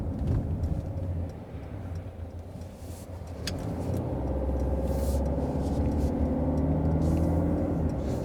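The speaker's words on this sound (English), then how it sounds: "maybe you can see a little bit the diesel noise" A Mercedes GLC 300d diesel, a 2020 facelift coupé, drones steadily from inside the cabin while driving, a low engine and road rumble that swells slightly louder partway through with no talking.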